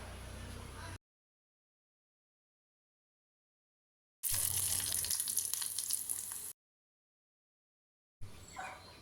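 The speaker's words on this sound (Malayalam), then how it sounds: "ഇനി നമുക്കൊന്ന് വറവിട്ടെടുക്കണം" Mustard seeds crackle and sizzle in hot oil while tempering for sambar, a dense hissing spatter heard in bursts separated by silent gaps.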